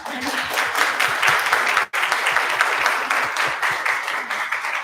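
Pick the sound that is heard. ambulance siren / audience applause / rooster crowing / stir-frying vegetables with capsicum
audience applause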